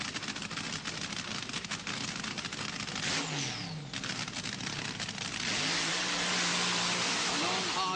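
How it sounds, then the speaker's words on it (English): Drag racing cars at Santa Pod Raceway roar through burnouts, a loud sustained engine blare with rising and falling revs and tire-spinning hiss, a commentator's voice partly under the noise. "Burnout for Crane."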